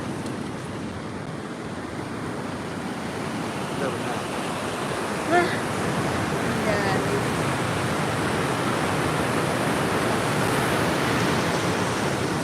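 Ocean surf washing onto a beach makes a steady broadband roar throughout, with brief voices talking over it.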